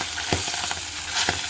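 Fish head frying in hot oil over cumin seeds, a loud close crackling sizzle with a few sharp spattering pops and scraping stirs, no voices.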